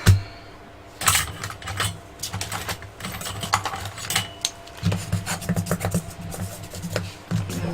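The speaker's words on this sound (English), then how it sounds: "I'll really burnish that down." Tape being burnished down on a Halloween scrapbook album, heard as close, irregular rubbing and tapping strokes in quick bursts, alone with no talk.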